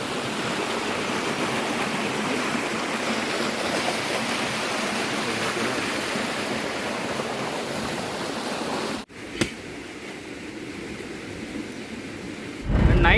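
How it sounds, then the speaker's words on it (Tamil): Fast-flowing water rushing through a pond channel makes a steady, loud broadband roar that continues for about nine seconds, then cuts to quieter background with a brief thump, and the rushing resumes at the end. "இந்த தண்ணி எவ்வளோ ஸ்பீட்டாக வந்து போய்கொண்டு கொண்டு"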